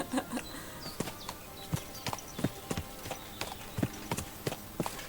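Horse hooves clip-clop in Kingdom Come Deliverance 2, a steady run of fairly close, moderately loud knocks with irregular spacing.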